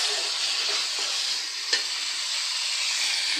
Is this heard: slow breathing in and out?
no